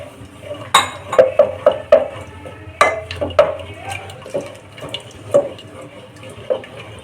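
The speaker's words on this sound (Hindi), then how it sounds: "इसलिए हम थोड़ा सा गर्म पानी डालेंगे।" Hot water poured into sarson ka saag cooking in a pan, a light running trickle with sharp clinks and knocks of utensils against the vessel, close and clear with no talk.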